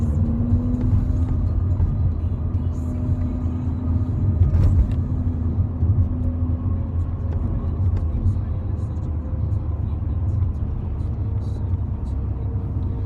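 A Mercedes-AMG car drives along with a steady low engine drone and road rumble, heard from inside the cabin while someone talks over it throughout.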